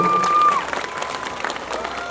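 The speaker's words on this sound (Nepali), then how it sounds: "एकचोटि उहाँहरू सबैलाई ताली बजाइदिनुहोस्" Brief applause with crowd noise at a school event honoring alumni, a short burst of clapping and murmuring, with a sustained tone at the start.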